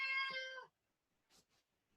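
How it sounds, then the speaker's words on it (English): A house cat lets out one clear, close meow at the start, followed by faint rustles and soft indoor noises in a quiet room. "That's my cat."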